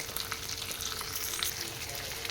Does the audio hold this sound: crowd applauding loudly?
no